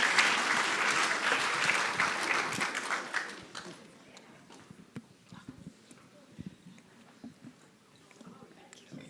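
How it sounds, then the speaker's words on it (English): Audience at a national pitch competition grand final applauds, dense clapping that is loud for about four seconds and then thins to sparse, scattered claps, quiet and roomy, with talking in the background. "Can we please give them a big round of applause"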